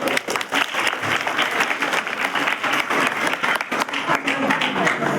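Crowd applause at an outdoor village gathering, a dense burst of clapping from many hands that keeps on steadily for several seconds, near and loud with no talk over it.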